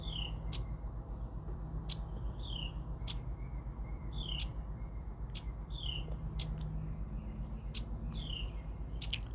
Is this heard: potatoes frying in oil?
no